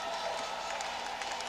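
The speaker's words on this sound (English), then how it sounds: "it's a nice crowd filing in, as you say, more and more people coming in" A crowd of spectators filing into a volleyball arena before a men's match, heard as a steady broad wash of distant chatter and movement that echoes through the hall.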